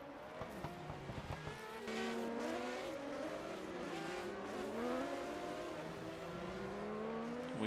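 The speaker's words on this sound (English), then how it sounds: "We can see here it ain't easy to get the cars stopped consistently." 1980 Procar race cars braking hard at the Norisring in Nuremberg, tires squealing and wailing in long shifting tones over a roaring engine, loud and sustained.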